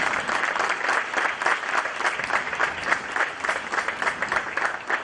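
A large audience claps warmly to welcome a speaker at a public event, a dense, steady, loud wash of applause that lasts throughout with no break.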